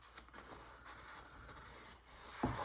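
Paint is rubbed onto a groundhog painting, a soft continuous scrubbing and brushing close by, ending with a brief louder scrape.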